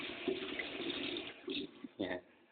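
Water runs from a new sink faucet into a tiled kitchen sink as a steady, fairly soft rushing stream, close by, with a couple of brief surges toward the end.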